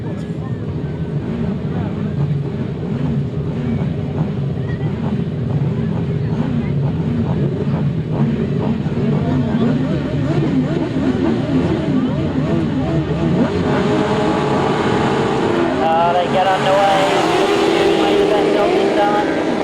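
Several grasstrack sidecar racing outfits rev loudly at the start line of a floodlit international meeting, their engines blaring and rising together. A commentator talks over the din.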